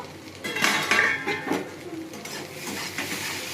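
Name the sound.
lid being removed from a cooking pan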